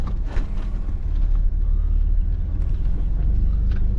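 A car engine idles steadily in a paddock with young animals nearby, a constant close low rumble running unbroken throughout.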